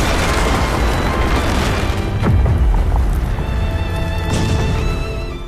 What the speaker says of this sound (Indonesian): sehingga terjadilah ledakan luar biasa